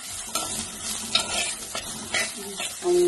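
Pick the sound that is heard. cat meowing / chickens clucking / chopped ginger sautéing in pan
chopped ginger sautéing in pan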